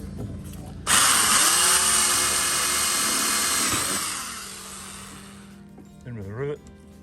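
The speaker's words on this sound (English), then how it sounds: "drill a hole." Power drill boring a hole through the metal wall of an old fridge being turned into a longtail catamaran hull; a loud, close, steady high-pitched whine runs for about three seconds, then tapers off, followed by a short voice.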